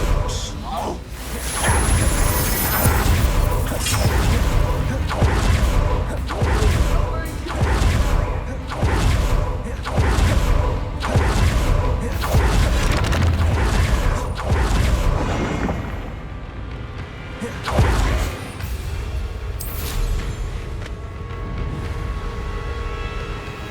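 Confringo fire blast spell from Hogwarts Legacy, a rapid series of booming impacts and whooshing bursts that repeat rhythmically for most of the stretch, then thin out into scattered softer blasts.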